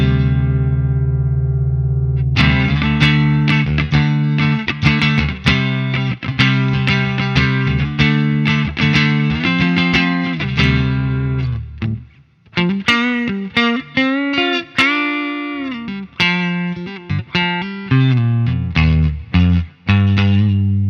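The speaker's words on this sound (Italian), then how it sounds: "Twin Reverb." An electric guitar plays through the Twin Reverb amp model on a Nux Amp Academy NGS-6. A loud, clean, chorus-tinged tone runs through a steady strummed chord pattern, followed by a brief pause and then a melodic run of bright, ringing notes.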